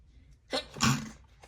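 A single sharp sneeze with a quick inhale beforehand, close and fairly loud, in an otherwise quiet room.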